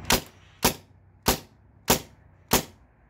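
Five sharp, evenly spaced shots from a Tippmann A5 paintball marker, each a loud crisp pop about half a second apart with quiet gaps between.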